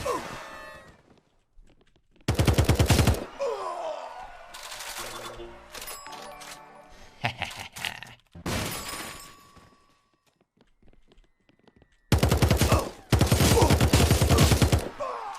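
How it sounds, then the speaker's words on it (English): An automatic gun in a first-person shooter fires in several long, loud sprays, each a dense rapid burst lasting about a second, with quieter game noises and a voice talking in the gaps between them. "spraying this gun is fucking tough. I didn't expect it to have so much recoil."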